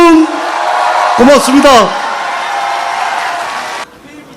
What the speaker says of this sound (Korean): 여러분 우리 이재명 후보님께 뜨거운 박수로 화답합시다.